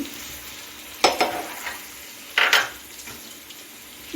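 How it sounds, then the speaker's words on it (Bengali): Cabbage with tomato and peas is stirred in a pan for a Bengali ghonto: a low, steady sizzle with two short bursts of utensil scraping and clatter against the pan, close by and alone. "দিয়ে একটু নেড়ে চেড়ে নিচ্ছি"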